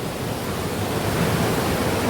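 Fast-flowing mountain stream in a Kerala estate, a steady broadband rush of water that stays loud and even throughout, with no voices.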